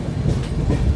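Interior of a moving passenger train on a trip to a home village, a steady low rumble of wheels and carriage rattle filling a short stretch, with no voices.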